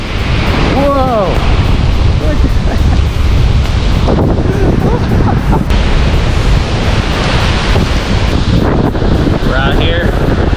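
Huge waves crash and roar on Lake Michigan on a windy, stormy day, with loud constant surf and heavy wind buffeting the microphone; a voice exclaims briefly at the start.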